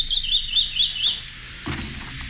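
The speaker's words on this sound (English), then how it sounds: "Our mystery bird is a strikingly beautiful scarlet-bellied southwestern songbird." A scarlet-bellied southwestern songbird calling, a quick series of four or five bright, high chirps at an even rhythm, fairly close, followed by a softer lower rustle.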